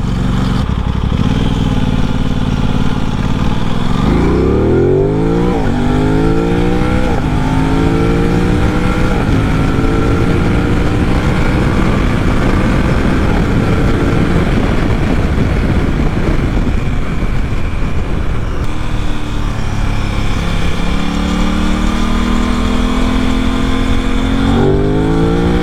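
Aprilia RS 660 sport motorcycle, a restricted A2-licence version, heard loud and close while being ridden on the road, its engine revving up through the gears with rising and falling pitch sweeps over a steady throaty drone for the whole stretch.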